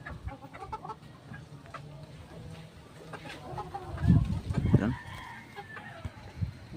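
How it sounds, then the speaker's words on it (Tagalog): A large purebred Boston Sweater chicken clucks in a short cluster of loud calls near the middle, with faint barnyard noise and quiet clucking before and after. "Malaking manok din yan mga katrabaders."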